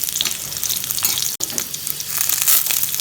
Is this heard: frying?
yes